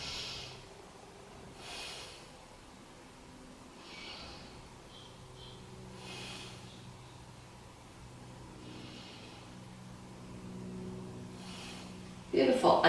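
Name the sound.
deep breathing during yoga chair pose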